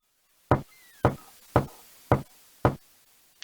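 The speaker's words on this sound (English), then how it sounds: "Knock, knock, knock." Five evenly spaced, sharp knocks on a door in the King's Quest 6 adventure game, loud and close with short gaps and a faint tone trailing after the first two, no voices.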